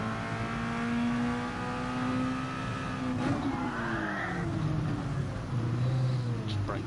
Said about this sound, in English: if you change down the gear too quick, it'll feel like the car speeds up